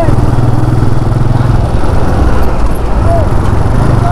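Dense road traffic around a moving motorbike near Rudrapur on a hot ride between Delhi and Haldwani, a steady close engine drone and wind roar with passing vehicles, continuous and loud throughout.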